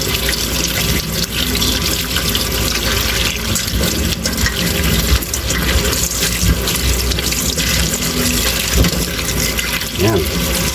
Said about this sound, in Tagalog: Hugasan din po natin yung ating kamatis.